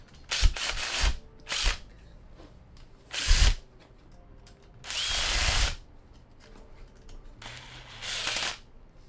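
Power driver sinking screws into humanoid robot arm parts during assembly, in four or five separate bursts of whirring, each lasting about half a second to a second, with quiet pauses between them.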